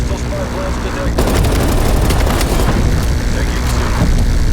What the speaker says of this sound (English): Incoming artillery.